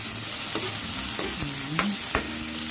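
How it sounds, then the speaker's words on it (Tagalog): Fatty pork sautéing in a pan, a steady close sizzle with several distinct knocks and scrapes of a spoon stirring. "Ilagay na natin yung ating pork na may taba. At igisa lang din natin siya ng mabuti."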